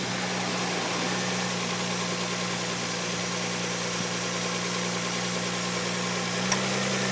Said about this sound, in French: Et à chaque fois que ça fait clac, j'ai le régime moteur qui augmente